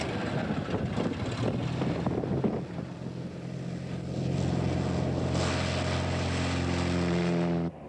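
Propeller-driven light airplane in flight, a steady loud engine drone with strong low harmonic bands that holds constant and fills the whole span, rising slightly midway, no voices.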